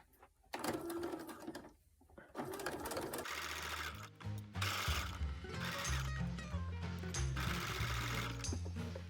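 A sewing machine runs steadily while stitching cotton jersey knickers, starting with a few short starts and stops and then settling into a continuous close whirr.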